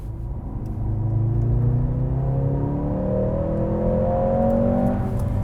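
A 2024 Mercedes-AMG GLC 43 accelerating from inside the cabin, with the engine note climbing smoothly and steadily for several seconds over a deep rumble and no gear change.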